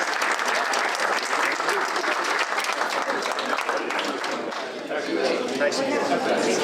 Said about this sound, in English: Round of applause, everybody, for these young gentlemen.